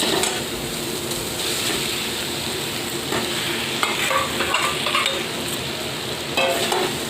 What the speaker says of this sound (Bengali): এবার এটা ভালো করে একটু মিশিয়ে নিয়ে আমি আলুটা দিয়ে দেবো